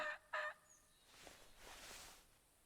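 Turkeys in the hunting game theHunter Classic give two quick, bright gobbling calls, then fade into a faint, rustling outdoor ambience. The whole sound is quiet and somewhat distant.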